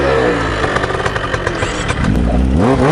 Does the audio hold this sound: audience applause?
no